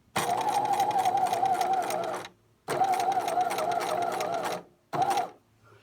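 Sewing machine running a zig zag closed seam in three bursts: two long steady stretches of rapid stitching separated by short pauses, then a brief final run before stopping.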